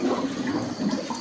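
Tap water rushes through a hose being filled to drain a home fish tank, a steady, close gurgling flow throughout.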